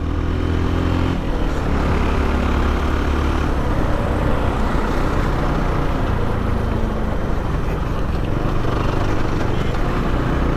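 An FB Mondial HPS 300 motorcycle engine drones steadily at full volume while riding on a twisty road, with wind rush blending in and the engine note shifting through downshifts, close and constant.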